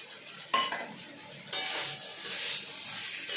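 Peas and boiled potato pieces stirred into cooked masala for vegetarian ghugni, with a spatula scraping and clanking against the pan in a few sharp strokes over a soft sizzle, no talking.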